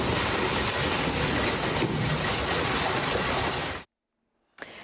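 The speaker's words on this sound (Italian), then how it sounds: "la grandine è scesa anche in spiaggia" Heavy hail and rain pour down on a beach during a storm, a dense, loud, steady roar that cuts off abruptly into near silence before a brief burst returns.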